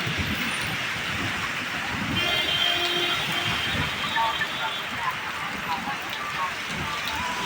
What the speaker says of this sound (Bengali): এখানে বৃষ্টিতে এই রকম বৃষ্টি হচ্ছে